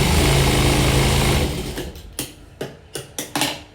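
A sewing machine stitches blouse pieces, first in a continuous fast mechanical whir, then in several short clattering bursts with brief pauses between them, close and clear.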